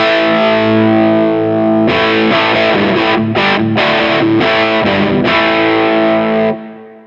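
High-gain electric guitar played through a Dumble-style amp tone with the high end cut, heavily distorted chords and riffs ringing loud and thick, then stopping abruptly.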